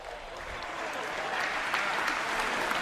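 A large CitizenCon audience applauds steadily, a dense wash of clapping that holds even and fairly distant throughout.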